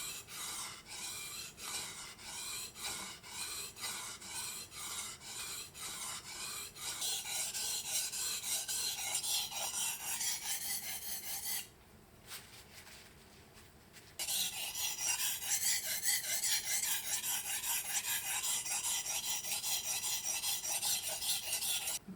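A knife is drawn over the finer side of a sharpening stone in steady, rhythmic rasping strokes, close and clear, with a short pause midway before the scraping resumes.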